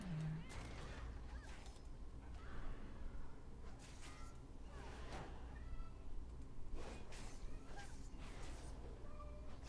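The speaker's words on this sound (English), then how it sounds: "You may be hearing my cat." A pet cat meows several times in a home while a World of Warcraft session plays, the cries faint and scattered over a low, steady background.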